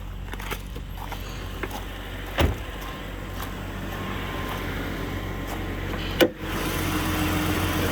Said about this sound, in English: Let's go pop the hood, listen to the motor.